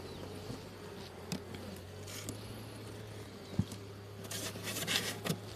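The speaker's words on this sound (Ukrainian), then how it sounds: "Все, їм тут у вулику комфортно." Honeybees in a hive hum steadily and fairly faintly, with occasional light taps and crawling clicks on the frames and no voices.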